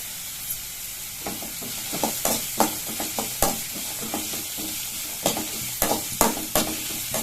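Peas and vegetables sautéing in a pan for vegetable kozhukattai, a soft steady sizzle broken by repeated sharp scrapes and taps of a spoon stirring against the pan, close and without talk.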